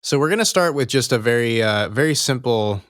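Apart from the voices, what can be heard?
No distinct noise like a dog, phone or traffic.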